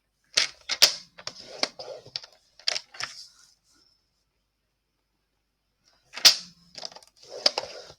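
A 17.5 by 10 cm piece of paper is folded and creased 1.5 cm from the edge. Crisp crackling creases come in a cluster, then a pause, then another group of sharp close-up crinkles with no talking.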